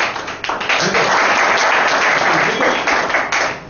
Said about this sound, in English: Okay, let's give him a big round of applause. Venkat.